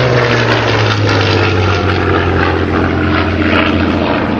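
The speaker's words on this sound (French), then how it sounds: "le seul Messerschmitt 109 en vol en Europe aujourd'hui" Messerschmitt Bf 109 G-2 propeller fighter flying at the La Ferté-Alais airshow, its piston engine droning loudly and continuously as it passes close overhead, a strong steady roar with no talk.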